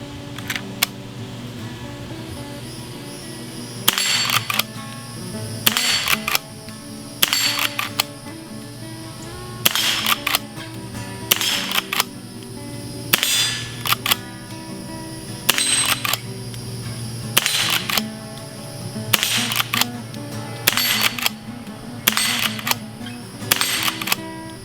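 Sharp .22 rimfire shots from a Marlin Model 39A lever-action rifle while plinking, fired one at a time at a steady, fairly even pace over a low background hum, with no talking.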